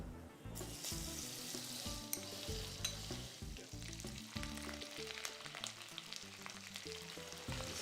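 Ginger garlic paste frying in hot oil in a cookery-show kitchen, a dense, continuous sizzle and crackle with stirring scrapes throughout, close and steady, with no talk.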